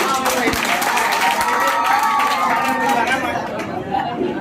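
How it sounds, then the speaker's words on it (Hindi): Clapping and lively crowd chatter mix at a local municipal election gathering in Najibabad, the applause fairly loud but blended with overlapping voices before thinning out at the end. "जोरदार तालियां"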